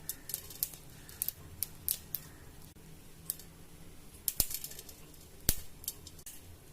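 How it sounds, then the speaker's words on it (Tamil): Mustard seeds and a little cumin popping in a dry kadai with no oil, heard as scattered sharp crackles and ticks in irregular bursts, fairly close, with quiet gaps between them and no talking. "நம்ம கடுகு பொரியுது"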